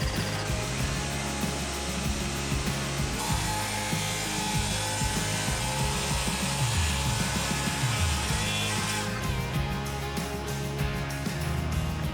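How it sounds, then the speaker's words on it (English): Saw ripping 3/4-inch birch plywood during a house renovation, a loud continuous whining cut with a varying pitch and a roaring motor, no talking. "we're gonna actually make it work with some 3/4-inch birch plywood. So we're gonna get ripping."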